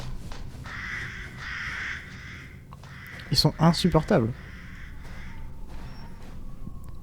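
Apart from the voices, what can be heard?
crows cawing in video game Resident Evil Village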